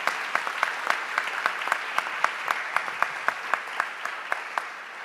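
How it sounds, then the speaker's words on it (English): A conference audience at a music research closing session claps steadily, a moderate crowd of hands with distinct sharp individual claps standing out in an even rhythm throughout. "please give them a round of applause on our behalf"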